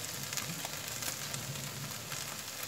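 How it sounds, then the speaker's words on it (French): Homemade gnocchi frying in a pan with a little butter give off a steady, dense sizzle with faint crackles, close and continuous with no talking. "Maintenant on va les mettre dans une poêle avec un petit peu de beurre et les laisser dorer."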